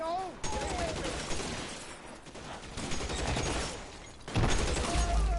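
Gunfire in the L.A. Noire video game comes as dense, rapid bursts of shots that carry on for several seconds, loud against a noisy backdrop of game sound, with a sharp heavy burst near the end.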